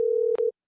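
A phone call ringback tone, a single steady electronic beep that holds for about half a second and then cuts off, heard on its own.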